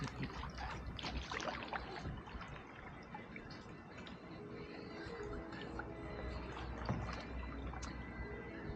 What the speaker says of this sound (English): We'll paddle back now, unless y'all want to keep on going.